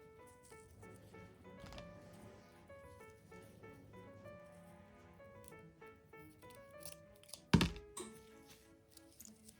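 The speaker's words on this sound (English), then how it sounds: "we're also going to cut the red ribbon to the same length as the white one" Scissors snip through red ribbon in one sharp, close cut, standing out above a quiet background with faint handling noises.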